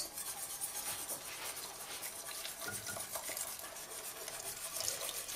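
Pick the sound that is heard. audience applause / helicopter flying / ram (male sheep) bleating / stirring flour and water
stirring flour and water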